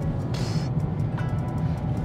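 Mazda MX-5 Miata being driven, a steady low engine and road drone from inside the cabin, continuous and moderately loud with a brief higher whoosh early on.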